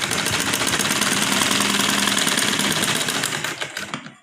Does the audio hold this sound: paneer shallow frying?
no